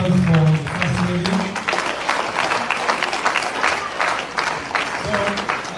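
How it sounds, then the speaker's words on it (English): A crowd at a political rally in Canada applauds the First Lady with steady, continuous clapping. Voices carry over the applause early on. "A round of applause for the First Lady."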